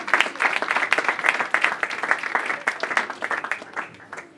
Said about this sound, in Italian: un applauso per il cofondatore